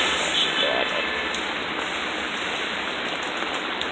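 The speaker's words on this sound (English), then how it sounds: "So it's going to be some windswept, heavy rain that we're going through right now." Windswept heavy rain during a downpour with some flooding nearby, a loud continuous hiss and roar of water that rises and falls slightly with gusts and fills the whole scene.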